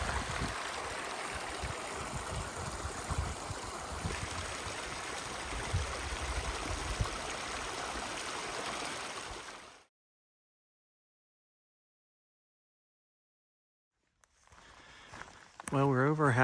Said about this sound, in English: Nice soothing sound of a cool, cold creek.